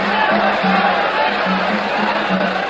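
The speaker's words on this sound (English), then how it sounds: "The crowd exhorting Escalera on." Boxing arena crowd cheering on a fighter during a bout, a loud sustained roar of voices with shouts and a commentator talking over it.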